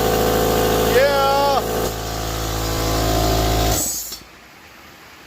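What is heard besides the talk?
air compressor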